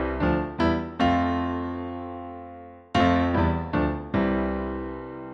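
Sustained, struck chords climb step by step up a major scale (I major, ii minor, iii minor, IV major) and then come back down, each ringing and decaying, loud and alone without talk.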